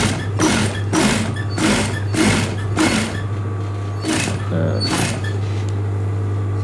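A sewing machine stitches a collar onto a garment body, a loud, close, steady motor hum with rhythmic rattling clatter in regular bursts, pausing briefly near the end.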